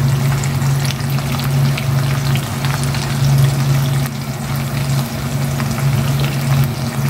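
Pork steak with onions frying in a pan, a steady close crackling sizzle with scattered pops over a low constant hum, running without a break and no voices.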